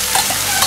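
Pork ribs stir-fried in a wok give off a loud, close sizzle of hot oil, with quick scraping strokes of the spatula.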